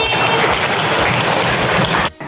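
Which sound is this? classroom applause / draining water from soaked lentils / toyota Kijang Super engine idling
classroom applause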